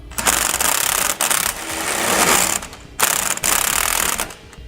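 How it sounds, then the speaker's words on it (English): A socket wrench ratchets rapidly on the anti-sway bar end link bolts of a 2015 Winnebago Minnie Winnie motorhome. The clicking comes in three close, loud bursts with short breaks between them. "come back with a 3/4 inch socket and wrench, and we're going to snug up our end link bolts"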